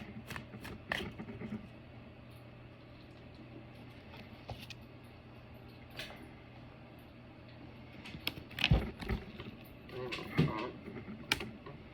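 Tarot cards are shuffled by hand in soft, irregular riffling bursts over a low steady hum, with a few sharper taps and clatters near the end.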